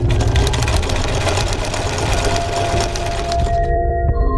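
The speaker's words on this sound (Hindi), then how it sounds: "दोपहर तक चीजें सेटल करके टीवी देखते हुए सिलाई मशीन पर सिलाई का काम करने लगी" A sewing machine stitches steadily at home, its loud, close mechanical whir running continuously with fast rhythmic clatter before cutting off near the end, leaving a faint hum.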